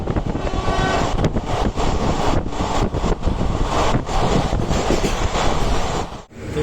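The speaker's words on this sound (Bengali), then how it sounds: "এখন ব্যারাকপুর স্টেশন থেকে ট্রেন ছেড়ে দিয়েছে, আর একেবারে এবার থামবে হচ্ছে কলকাতা" A moving train running nonstop from Barrackpore station toward Kolkata: loud, continuous rumble of railway carriages with wheel clatter and wind buffeting throughout, close and steady, with no talking.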